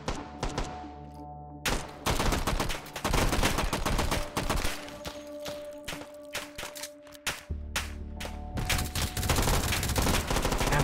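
Grease gun submachine gun firing in the H3VR virtual reality game: repeated sharp bursts of automatic fire, loud and close, with short pauses between strings of shots and no talking.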